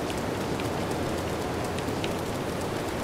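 Rain falls in the video game Zelda Breath of the Wild as a steady, dense hiss of drops on surfaces, with no one talking.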